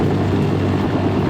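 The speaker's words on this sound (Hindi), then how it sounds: "बेहद कम ऊंचाई पर देखिए बेलारूसी हेलीकॉप्टर" A Belarusian helicopter flying at very low altitude, its rotor and engine noise a loud, steady, continuous roar close by with no voices.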